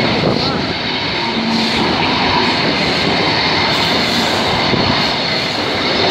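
A Class 91 locomotive being dragged by a Class 43 through the Lincoln High Street level crossing, a loud, steady, close rumble and roar of the passing train that holds without a break.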